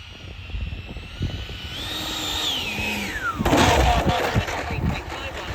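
A Freewing Hornet RC jet flying, its ducted-fan whine sweeping up and down with the throttle, then a louder roaring pass near the midpoint; someone talks over it.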